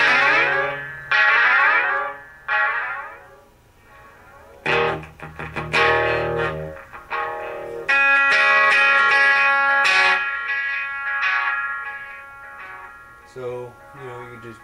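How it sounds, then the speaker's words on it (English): A Line 6 Spider III 75-watt combo amp plays guitar notes and chords through a sweep echo effect, repeats sweeping and fading behind each phrase, loud and close in short bursts with pauses. "Then sweep echo, which I think is kind of cool."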